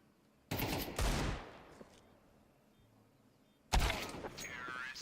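Bursts of gunfire in a competitive shooter video game, two loud clusters of rapid shots separated by a quieter stretch, including a headshot, with faint game ambience between.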